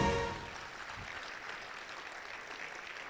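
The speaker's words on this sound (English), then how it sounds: "Big round of applause, please." A conference audience at the Kenya Space Expo applauds, with a broad, even wash of many hands clapping throughout, slightly louder at the start after a brief trailing sound.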